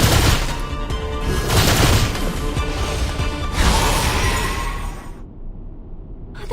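Gunfire barrage in Reverse: 1999, dense rapid shots and crashing impacts rolling loudly for about five seconds, then cutting off to near quiet.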